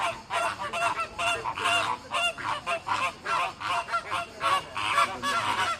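Flamingos at Lisbon zoo, a crowded flock squabbling over food, give a continuous nearby chorus of loud goose-like honks and nasal calls in overlapping bursts, with no talking.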